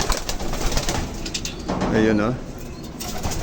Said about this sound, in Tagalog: dumami na yung aking alagang kalapate